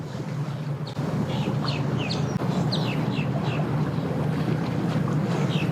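Monterey boat with an inboard/outboard motor idling at a boat ramp, a low steady engine rumble with chirping birds on top, close and continuous without talk.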